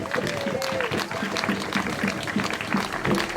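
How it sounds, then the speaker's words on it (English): A crowd applauds at a plaque unveiling ceremony honouring Ethiopian historical figures in Bath, brisk scattered clapping at moderate level while a voice carries on over it. "A round of applause for that, please."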